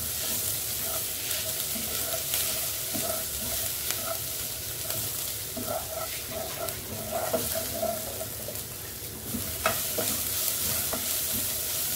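Onion, grated coconut and green chilli sautéing in a pan for a fenugreek-leaf and potato thoran, a steady sizzle and frying crackle with occasional stirring scrapes, close and continuous without talk.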